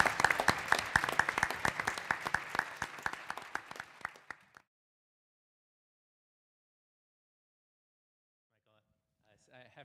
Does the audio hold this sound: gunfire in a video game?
no